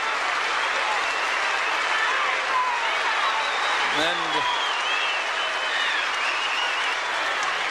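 Whole stadium crowd at the 1979 Australian Open tennis final applauding the champion, dense sustained clapping throughout with a commentator's brief word over it.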